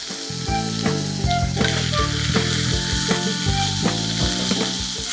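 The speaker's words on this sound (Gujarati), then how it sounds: "સ્ટર કરી લઈએ સરસ રીતે મિક્સ થઈ ગયું છે" Soya chunk upma frying in a pan, a loud, close sizzle running throughout with steady rhythmic scraping strokes as a spoon stirs and mixes it, no talking.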